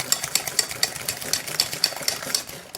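Eggs and sugar beaten in a bowl with an electric mixer for chocolate-chip brioche rolls, giving a steady, close whirring rattle with quick rhythmic clicks and no voices.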